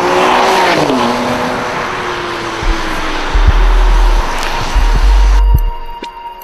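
A Ferrari 599 GTB sports car engine roars and revs loudly, the pitch sweeping down and then surging again as it accelerates past.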